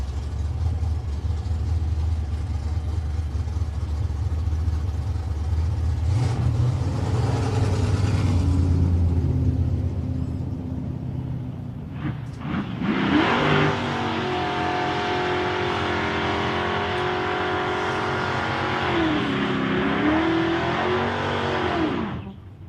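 At a nostalgia drag meeting, a big Chevrolet and a little 1965 Ford Mustang rumble loudly near the line, then burst into hard revving acceleration with rising and falling engine pitch that fades as the cars pull away.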